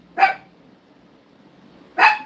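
A dog gives two sharp barks indoors, one near the start and another about two seconds later, with quiet room tone between them.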